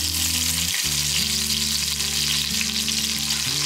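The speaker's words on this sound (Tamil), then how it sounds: "எல்லாமே நல்லா பொரியட்டும்." Spices and curry leaves fry in hot oil in a pan for chicken curry, a loud, continuous close sizzle with steady crackling that never lets up.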